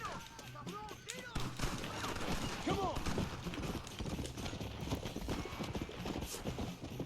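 Horse hooves in a video game, rapid clip-clop beats with a whinny early on, under someone talking and bursts of gunfire.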